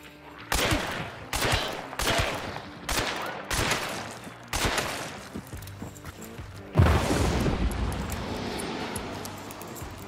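Loud gunshots in Hunt: Showdown, several heavy, booming single shots spaced about a second apart with long echoing tails, followed by a longer rumbling blast.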